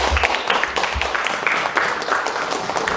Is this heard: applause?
yes